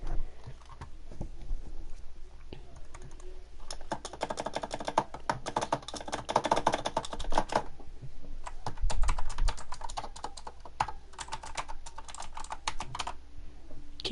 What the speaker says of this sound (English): Keyboards are fun to just type on.